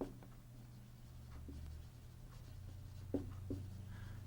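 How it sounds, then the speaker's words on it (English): Pen writing quickly in longhand on paper, soft scratchy strokes in short bursts over a low steady room hum, quiet and close. "Now I'm going to write in longhand."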